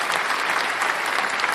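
Dense applause from a group at a baseball podcast, steady and loud, with no breaks over its short span.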